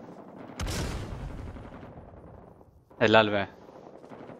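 Gunfire in Rising Storm 2: Vietnam, a short loud burst early and a sharper, louder crack-like burst about two seconds later over low background noise, with someone speaking briefly.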